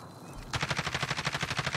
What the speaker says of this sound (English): They just shot at you.